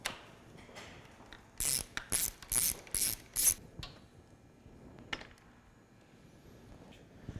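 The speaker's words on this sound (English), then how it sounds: "Now we're going to remove the stock fans using a 10mm socket." A ratchet with a 10mm socket clicks rapidly in several short bursts while loosening the stock cooling-fan bolts on a Subaru Impreza WRX/STI, close and clear against a quiet workshop background.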